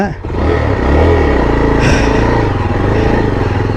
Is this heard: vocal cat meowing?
no